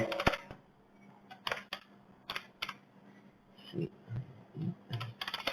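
Typing HTML code on a computer keyboard, short bursts of quick key clicks separated by pauses, close and clear, with a few softer low thumps toward the end.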